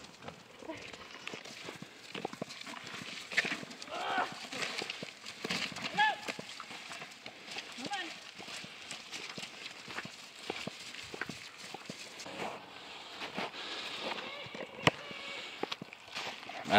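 Pigs stomping and running around a pen with electric wire, a busy stream of hoof thuds and scuffling footsteps throughout, with people talking over it.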